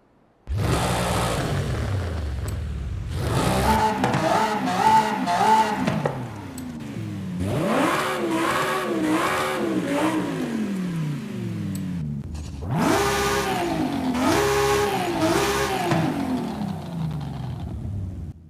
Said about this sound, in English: well, listen to the engines.